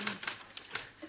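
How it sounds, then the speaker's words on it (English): A few sharp typewriter key strikes clack at irregular intervals, faint and close, with a soft voice in the background. "Poor old Shield's been typing her fingers raw"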